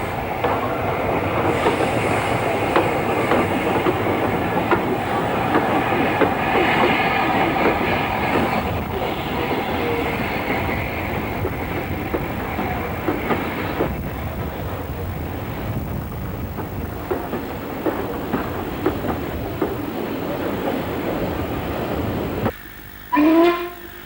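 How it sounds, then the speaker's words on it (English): Steam locomotive 30926 Repton hauls a train into Goathland station on the North Yorkshire Moors railway, with loud rolling wheels and rhythmic clickety-clack that gradually fades, then a short whistle-like burst at the end. "The crossing service from the south enters Goathland with 30926 Repton at its head."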